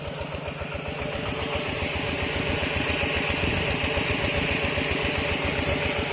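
An engine-driven pump draws water into a rice field in rural Thailand, its mid-pitched motor chugging steadily and fairly close, with a constant rhythmic thump and no talk over it.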